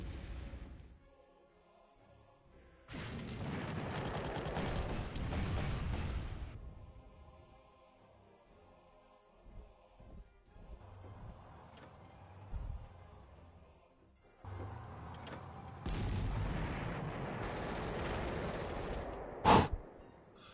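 Artillery fire in the Panzer Corps strategy game, a few loud rumbling barrages separated by quiet gaps, ending with a sharp crack.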